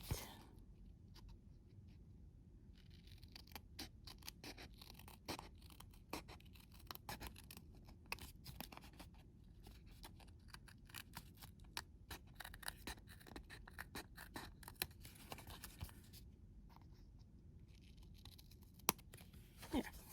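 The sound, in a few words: small scissors detail cutting a die cut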